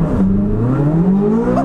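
Chevrolet Corvette Z06, a 2023 model, launching hard under launch control, the engine note climbing steadily in pitch in one short loud burst.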